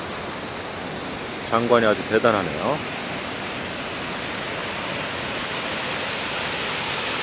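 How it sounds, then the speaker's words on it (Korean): Cheonjiyeon Waterfall in a wide gorge on Jeju Island gives off a steady, loud, unbroken roar of falling water, while someone speaks briefly over it. "저는 지금 제주도의 천지연 폭포에 와 있습니다."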